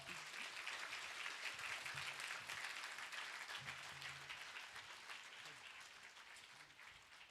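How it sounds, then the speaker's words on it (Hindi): Applause from the gathering at a satsang with Shoonyo Maa, a quiet, distant patter of many hands that holds steady and slowly tapers off toward the end. "तालियों में दम नहीं था।"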